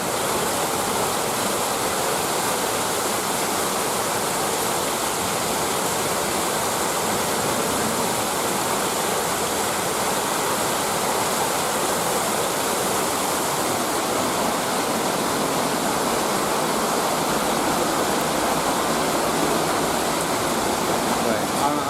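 Heavy rain from an extreme thunderstorm roars as a dense, steady broadband wash, loud and unbroken throughout with no clear speech standing out.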